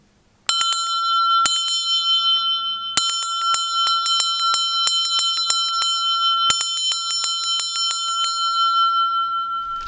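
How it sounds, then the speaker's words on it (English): A small metal bell dug up after about 150 years underground rings in bright, clear strikes, first single hits, then quick jangling bursts that leave a sustained shimmering tone, close and alone. "This bell has probably been in the ground 150 years, and today is the day we get to hear it ring."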